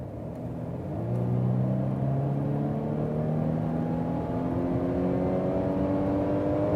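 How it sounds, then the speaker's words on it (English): A Mercedes GLC Coupé accelerates hard on a motorway, its engine note rising steadily in pitch through the rev range with a smooth whirring drone and road rumble, heard from inside the cabin with no talking. "I think we can show you some more acceleration"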